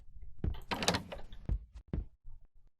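A sharp, sudden thunk of a door slamming shut in a video game, with a few softer clunks and knocks trailing after it.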